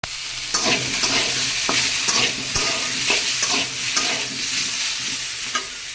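Vegetables fry lightly in a hot pan, sizzling loudly and steadily while a utensil stirs and scrapes them in repeated strokes.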